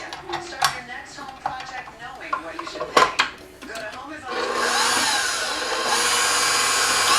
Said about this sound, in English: Put that into your friendly stand mixer, and we will whisk that.